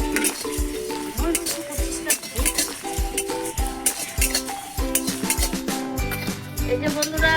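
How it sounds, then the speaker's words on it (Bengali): Whole cumin, coriander, cloves, cardamom, cinnamon, nutmeg, mace and dried chillies dry-roasting in a pan, stirred with a utensil that clinks and scrapes against the metal in a quick, repeated rhythm. "গোটা জিরে গোটা ধনে লবঙ্গ এলাচ দারচিনি জায়ফল জয়ত্রী শুকনো লঙ্কা একসঙ্গে আমি ভেজে নেবো"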